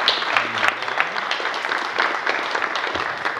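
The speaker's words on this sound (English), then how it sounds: "Give Chris a big round of applause." Audience applause at an alumni weekend brunch, a steady, dense wash of many hands clapping that holds evenly for several seconds, mid-distance and unbroken, with no voices above it.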